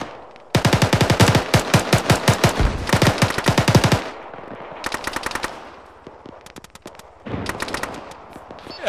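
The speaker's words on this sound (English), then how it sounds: "Enemy fire from the north." Bursts of automatic gunfire in an Arma 3 air assault battle, long rapid machine-gun strings up front, then a quieter pause and shorter scattered volleys near and far.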